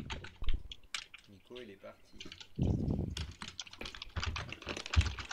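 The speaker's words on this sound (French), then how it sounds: "on entend tellement le clavier de quelqu'un" Rapid keyboard clicks patter throughout alongside overlapping casual voices, the typing close and busy with short bursts and pauses.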